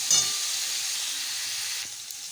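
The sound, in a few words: okra frying in oil with turmeric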